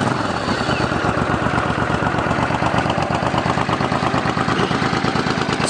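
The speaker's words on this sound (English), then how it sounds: "let's turn it on and we'll crank her up" Suzuki Boulevard S50 motorcycle engine running at idle, a steady close-up rhythmic chugging with a dense mechanical rattle that continues evenly throughout, without any talking.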